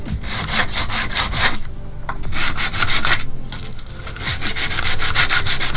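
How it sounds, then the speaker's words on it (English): Sandpaper rubbing along the edges of a wooden board for an entryway key holder, a loud, close, steady back-and-forth rasp with two brief pauses between runs of strokes. "I can come back now with a little bit of sandpaper if I want to."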